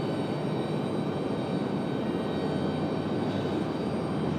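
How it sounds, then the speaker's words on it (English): An American Airlines Airbus A321 jet departs from Raleigh-Durham International Airport, its engines producing a steady, loud, broadband roar that holds evenly throughout. "Got another American A321."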